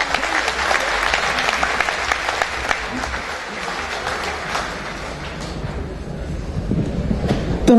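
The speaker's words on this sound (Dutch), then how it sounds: "Graag willen voor jullie alle drie een heel groot applaus." Audience applause at the Stoppelhaene harvest festival honouring a Sallandse boer and harvest queen, a dense, steady round of clapping from a sizeable crowd that holds loud for several seconds and thins slightly toward the end.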